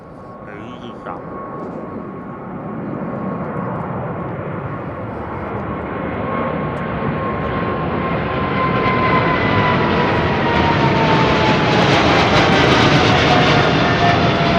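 Jet airliner with GE engines departing Heathrow overhead, a loud rising roar with a whining tone that builds steadily and peaks near the end, with people talking underneath.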